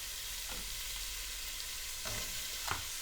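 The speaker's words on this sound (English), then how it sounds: "I'm going to get my onions in. Just get them sizzling." Onions sizzle steadily in a hot pan, a continuous close crackle with a few brief stirring scrapes and no voices.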